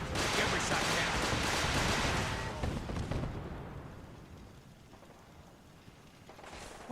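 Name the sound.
missile explosions in Fallout 4 video game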